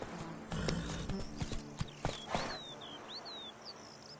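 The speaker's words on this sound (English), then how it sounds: "Giddy up. Whoa there, Roach." A horse's hooves clip-clop at a walking pace in The Witcher 3 on PS5, the footfalls near and distinct against birdsong chirping in the background.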